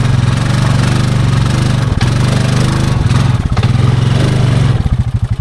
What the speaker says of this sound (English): I just kind of blipped the throttle until I got that tire to spin some